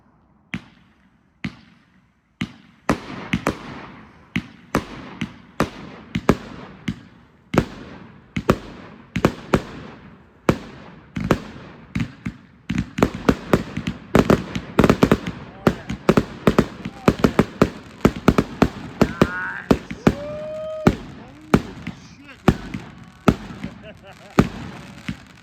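Large firework cakes fire off a long barrage of loud, sharp bangs, sparse and spaced at first, then a dense rapid volley with crackling and whistling tails, heard up close with voices reacting in the background.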